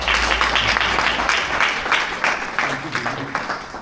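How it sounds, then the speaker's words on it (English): A modest audience gives a round of applause after a lecture on the Bhagavad Gita, individual claps audible and close, tapering off toward the end with faint murmuring underneath. "Can we have one more round of applause?"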